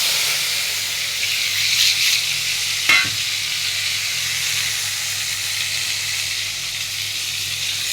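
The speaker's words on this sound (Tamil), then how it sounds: "தக்காளி, வெங்காயம், பச்சை மிளகா, கருவேப்பிலை இதை கட் பண்ணி வச்சதை வதக்குறேன்." Chopped tomato, onion, green chili and curry leaves sautéing in a pan, giving a steady close sizzle and hiss with a single scrape of the spatula.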